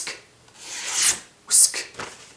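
A knife edge is stroked across a wet sharpening stone, giving short gritty rasping swipes, about three strokes in quick succession, close and fairly crisp.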